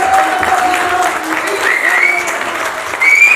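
Loud, dense applause from a large crowd at a poster-reveal stage event in India, a steady wash of clapping from start to finish with a few whistles on top.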